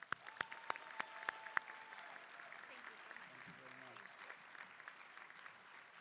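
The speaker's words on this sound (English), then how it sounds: "Please join me in giving her a huge round of applause." Applause from a crowd at a university undergraduate convocation, scattered claps with a few sharp close ones, fairly faint and continuing steadily, with a voice speaking briefly underneath.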